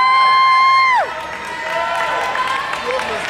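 A sustained whistle-like tone slides sharply downward, then a group breaks into cheering and clapping, with excited voices and a bright, busy crowd noise continuing to the end.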